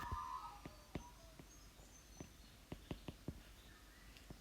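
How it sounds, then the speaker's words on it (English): Birds chirp outdoors in short, scattered calls, with sharp isolated notes spread across a quiet background, faint and at a moderate distance. "I'm hearing so many nice birds at the moment"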